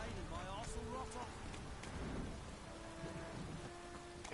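Steady rain pours in a Witcher 3 Wild Hunt game world, a dense hiss with distant thunder rumbling beneath and faint tonal game sounds drifting over it.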